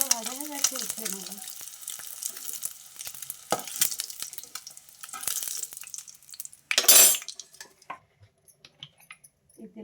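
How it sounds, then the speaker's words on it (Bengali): Eggs coated with salt and turmeric frying in hot oil give a steady close sizzle and crackle, with scraping stir sounds and a brief louder burst of spattering near the end. "তেলটা গরম হয়ে গেছে, ডিমগুলো ভেজে নেবো।"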